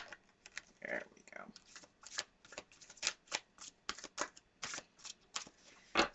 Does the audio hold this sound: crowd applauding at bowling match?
no